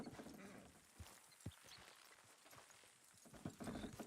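Horse hooves clip-clop in Red Dead Redemption 2, sounding as a few irregular, fairly close thuds over steady in-game background noise.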